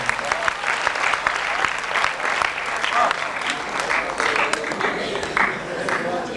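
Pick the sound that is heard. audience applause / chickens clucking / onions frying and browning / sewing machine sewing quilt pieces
audience applause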